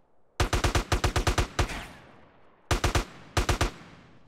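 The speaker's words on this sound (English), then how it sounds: "Oh, shotguns." Shotgun fire in GTA San Andreas: a rapid string of eight sharp, loud blasts, then a pause and two more quick bursts of three shots each, punchy and close with short decaying tails.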